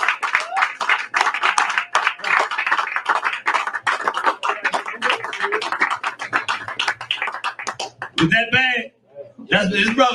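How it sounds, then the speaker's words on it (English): A crowd applauds in dense, continuous clapping for about eight seconds, with voices rising over it near the end. "Give him another round of applause."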